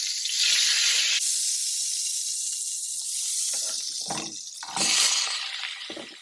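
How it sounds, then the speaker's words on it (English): Rinsed vegetables hitting hot sauce oil for a stir fry, loud close sizzling and hissing that swells and fades, with a few sharper crackling bursts toward the end. "I'm going to be using some of the oil from the sauce to stir fry the vegetable."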